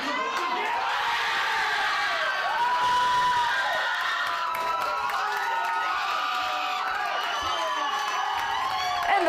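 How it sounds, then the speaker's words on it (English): Fans at a hockey watch party at Bugsy's in Alexandria roar and cheer loudly and continuously, with shouts and whoops rising over a dense crowd din throughout. "it didn't take long for the crowd to break out into a roar"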